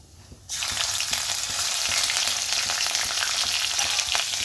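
Green chilies, ginger, garlic and cumin seeds hit hot oil in a kadai, bursting into a loud, steady broadband sizzle after a brief quiet start and holding constant to the end, close and alone.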